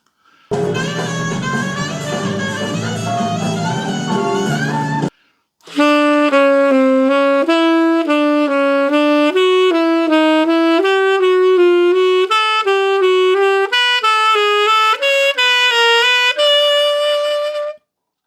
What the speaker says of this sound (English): The lick throughout the entire scale sounds like this.